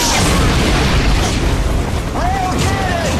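A rail cannon firing in the Project Snowblind video game, a loud booming blast over a dense wash of battle noise, with a voice speaking over it.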